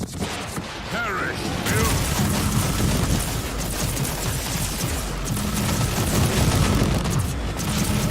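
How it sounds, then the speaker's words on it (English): A cyclone missile launcher firing in the Warhammer 40,000: Inquisitor - Martyr video game, giving dense, sustained rumbling blasts and booms that stay loud throughout amid continuous battle noise. "we will use the cyclone missile launcher against that major target"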